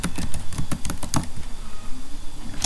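Fingers tap rapidly on a computer keyboard, a brisk run of close key clicks that pauses briefly and resumes at the end.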